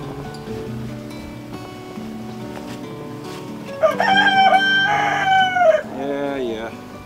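Chickens call nearby in a warm coop on a snowy day, a rooster-like crow rising over low clucking and soft background noise, with a second drawn-out call following.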